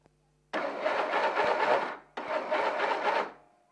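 A racing tractor engine is cranked twice with the valve clearance adjustment under way, each attempt a loud, close, buzzing churn lasting about a second and a half, separated by a short pause, with no talk over it.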